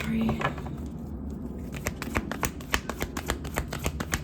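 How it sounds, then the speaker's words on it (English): Tarot cards being shuffled in quick riffling bursts, a rapid run of crisp flicks in the second half after a softer start. "I feel like I'd be shuffling the cards mad hard"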